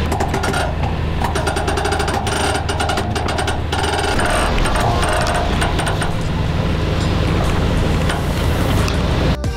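A sailboat moving over the sea in light wind, with steady broadband water and wind noise and intermittent rattling or knocking sounds throughout, loud and close.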